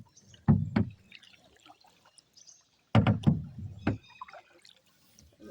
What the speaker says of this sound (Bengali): এই যে কত সুন্দর বোট চালাইতেছি।